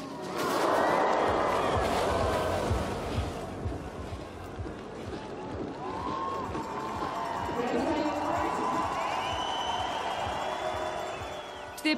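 A crowd applauds and cheers at an Olympic men's freestyle aerials skiing qualification in Sochi, a broad wash of clapping and crowd noise over wind, with a commentator talking over it throughout.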